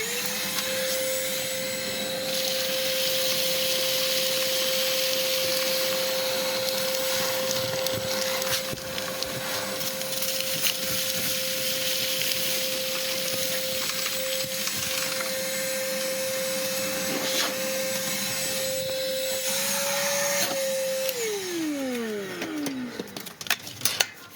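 A Sealey 20-volt cordless vacuum cleaner runs steadily with a constant whine and airy roar, then winds down as it switches off near the end.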